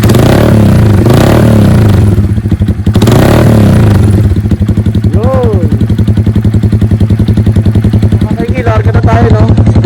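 A cafe racer motorcycle engine idles loudly up close with a rapid, throbbing exhaust pulse and is blipped to brief revs several times, with mechanical clatter throughout and a voice talking over it at times.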